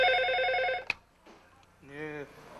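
An old landline telephone rings at a neighbourhood police station detective office in 2006, its bell trilling loudly for about a second before a click of pickup, followed by a voice.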